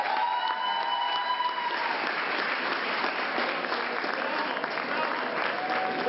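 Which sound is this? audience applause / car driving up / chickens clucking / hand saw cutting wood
audience applause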